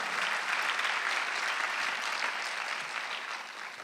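A church congregation claps together through a Sunday worship service, a dense, steady wash of applause that fills the room and tapers slightly toward the end.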